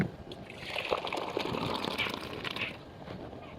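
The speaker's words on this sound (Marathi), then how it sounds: "तर आपण डाळीला याच्यामध्ये ओतून घ्यायचं आहे" Thick cooked dal for dal bati pours steadily into a pot over a wood-fired village stove, a continuous close, wet trickling and sloshing stream lasting a few seconds before stopping abruptly.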